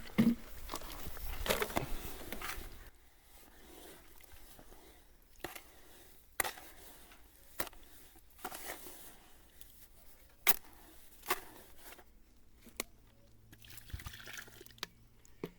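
Water trickles and pours softly in short bursts, with light clinks and taps between pours in an otherwise quiet room.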